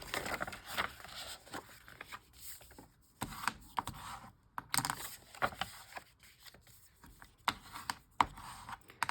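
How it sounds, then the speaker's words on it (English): Paper being folded by hand for a mini junk journal, close up: quiet crinkles, rubs and creasing swipes in irregular bursts, with short pauses between them. "So now fold the printed side together with the plain side out."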